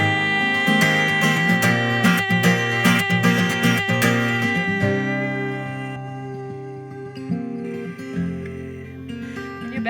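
Acoustic guitar picked note by note, busier at first then thinning to softer, sparser picking near the end; no voices.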